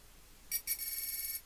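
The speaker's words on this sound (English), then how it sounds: "I just use the Razor ringtone on my iPhone" Motorola Razr ringtone playing from an iPhone, a short bright electronic tone burst followed by a longer sustained ringing phrase, moderately quiet and alone.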